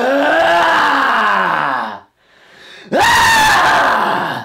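A loud synthesized voice-like scream from a synthesizer driven by screaming into a microphone, with swooping pitch, cut by a short silence, then a second harsh scream bursting in.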